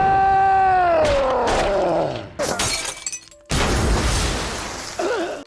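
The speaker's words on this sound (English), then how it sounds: "Enraged, Dingleberry shoots Steve, but the bullet passes through him, shattering the glass of Snot's tank." Cartoon gunshot shattering the glass of a fish tank: a loud crack and burst of breaking glass, followed by scattering shards after a sliding animated tone, alone without talk.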